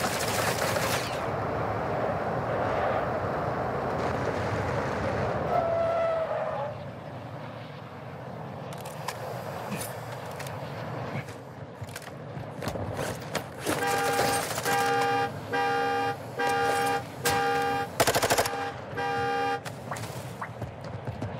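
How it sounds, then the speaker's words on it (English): Gunfire in the video game Warzone: bursts of rapid automatic shots and sharp beeping tones over game ambience and vehicle noise, at moderate loudness with no talk. "He shoots me in the back."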